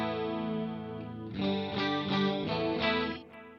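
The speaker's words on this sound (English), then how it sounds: "Now let's say I want to change to a distortion tone with no pitch block and no delay." Electric guitar through an FM3 or Axe-Fx III modeler, a sustained harmonically rich tone that swells louder and grittier partway through, with distortion-like saturation and strummed accents, played alone without voices.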